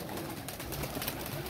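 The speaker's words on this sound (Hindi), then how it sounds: "ये जी कबूतर शबूतर" Pigeons at a pigeon fancier's loft coo in soft, low, repeated calls over a steady background hiss of the surroundings, with no talking.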